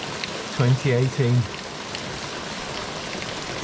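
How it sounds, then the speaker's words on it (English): Torrential rain pours down in a steady, loud hiss across the whole stretch, with a brief voice speaking near the start. "it's torrential rain right now"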